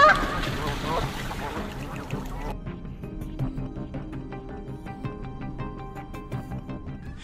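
Canada geese honk repeatedly in a busy flock, loud at first and then a little fainter, with overlapping calls sounding close by.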